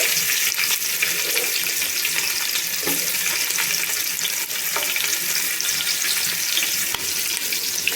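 Onions frying in oil with cumin for a paneer biryani, a loud, dense, hissing sizzle that runs steadily throughout with faint stirring clicks, no speech.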